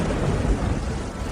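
Thunder rumbling for divine purple lightning, a dense, loud low roar with rain-like hiss that fills the whole moment without a break.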